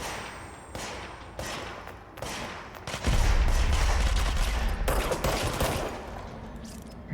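Heavy gunfire from the video game Control, sustained bursts of shots with a loud, dense barrage and deep thuds in the second half, no talking.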